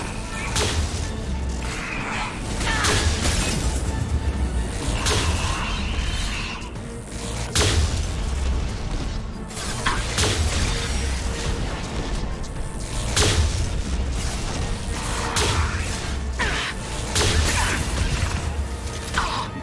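Anti-ship batteries fire in the Mass Effect video game, a dense continuous barrage of loud booms, cracks and crashing impacts that rolls on without pause, with some voices mixed into the battle noise.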